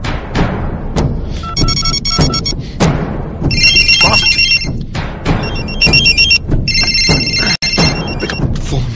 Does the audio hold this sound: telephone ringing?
yes